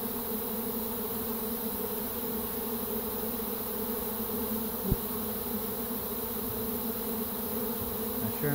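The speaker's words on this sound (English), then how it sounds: "But look at all these bees." A honey bee swarm drones in a steady, continuous buzz of many bees nearby, humming evenly throughout with one brief click midway and no talking.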